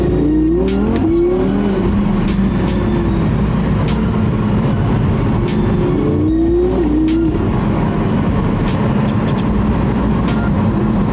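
An Audi R8 V10 Performance is driven hard, its deep, loud exhaust rising through two sharp upshifts and then droning steadily close by, with no talk.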